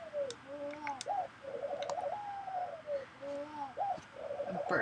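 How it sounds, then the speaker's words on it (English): Pigeons or doves coo close by in repeated, rhythmic rolling phrases over steady low background noise, with no talking. "Birds are right up there."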